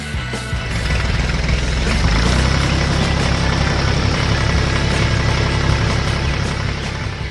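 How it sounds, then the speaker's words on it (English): Loud, close engine rumble from a cartoon yellow dump truck, a dense continuous drone that starts abruptly and holds steady throughout without talking. "And here comes the yellow dump truck to finish the job."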